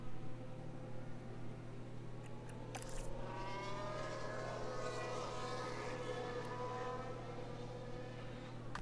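A Formula 1 car on a warm-up outlap in F1 Manager 22, holding a steady engine drone with a rising tone as it builds speed. The sound stays continuous and moderately distant throughout, with no talking.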